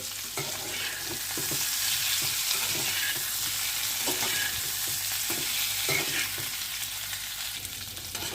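Eggs fry in oil with a pinch of chilli powder for an egg and broccoli curry, a constant sizzle under repeated scraping stirs of a spatula, steady and close, with no voices.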